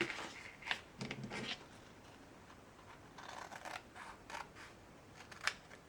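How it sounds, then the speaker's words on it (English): Scissors snip paper for a kids' Father's Day keychain craft, a handful of quiet, crisp cuts in small clusters against a soft, hushed room background. "I'm going to trim"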